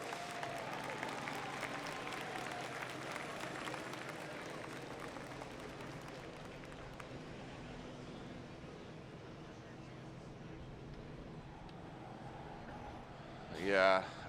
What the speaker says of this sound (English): Round of applause for Mike Power, please, if you will.